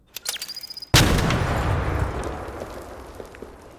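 An explosion sound effect from the video game Arc Raiders hits with one sudden loud, boomy impact after a few short clicks, then a long rumbling tail that fades slowly.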